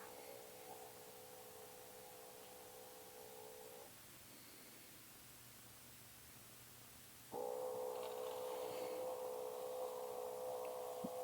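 An automatic litter box's low mechanical whir runs steadily through its cycle, cuts out for a few seconds of quiet room hum, then starts again a little louder.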